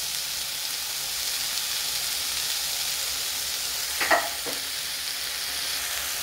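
Pineapple slices seasoned with black pepper and paprika roast in a pan, giving a steady, moderately loud sizzle with a couple of brief sharper crackles partway through.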